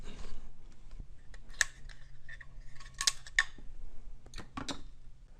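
Parts of a G&G Predator airsoft electric gun are taken apart: close, sharp clicks, snaps and small plastic and metal rattles in scattered bursts against a quiet background.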